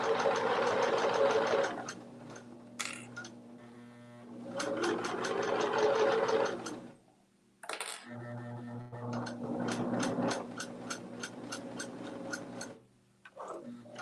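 A sewing machine stitching fabric runs in long steady bursts with a fast mechanical whir and rattle, pausing briefly between runs as the work is stopped and turned, close and loud with no talking.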